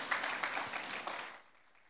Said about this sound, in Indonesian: Yang percaya tepuk tangan yang dahsyat untuk Tuhan Yesus.